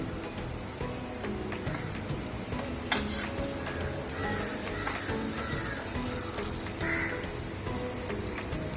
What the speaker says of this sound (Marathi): आपल्या इथे मोहरी मेथी आणि हिंग जे आहे आपला तो पण आपण मिक्स करतोय त्याच्यावर तेल टाकतोय